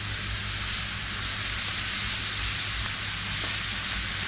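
Thin fish fillets fry in hot oil, a steady dense sizzle and crackle heard up close without pause, over a low constant hum.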